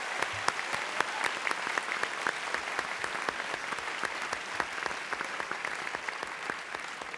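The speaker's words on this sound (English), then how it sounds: "Let's give them a round of applause." Audience at a high school science bowl championship match applauds steadily, dense clapping from a crowd sustained throughout, with no talking over it.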